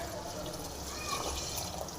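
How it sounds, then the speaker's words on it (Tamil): Lentil cooking water being poured into a drumstick leaf dish, a steady wash of splashing liquid that holds through the whole moment with a low background rumble. "இப்போ பருப்பு வேக வச்ச தண்ணி இதில் ஊற்றிடலாம்."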